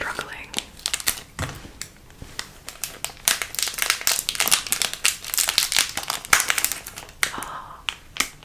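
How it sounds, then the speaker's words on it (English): Scissors snip and crunch through plastic packaging of mochi ice cream, a rapid series of sharp clicks and rustles close up, with soft whispery breaths between. "Decided we're gonna use scissors for this one"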